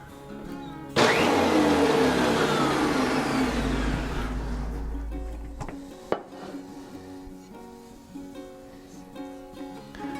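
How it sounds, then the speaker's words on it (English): A plugged-in tool's motor spinning its sharp-bladed rollers: a sudden loud whirring rush that starts abruptly, holds for about three seconds and gradually winds down, followed by scattered clicks and clunks nearby. "And I am going to plug it in to try to turn the rollers a little."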